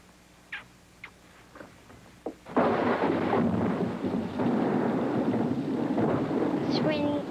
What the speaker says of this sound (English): It's raining again, Albie.